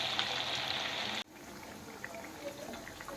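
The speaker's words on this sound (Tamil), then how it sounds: "லோ ஃப்ளேமில் வச்சு ஃப்ரை பண்ணுங்கள்" Potato bites frying in oil over a low flame, a steady bubbling sizzle that is louder at first, drops off abruptly, then continues as a softer crackle with scattered pops.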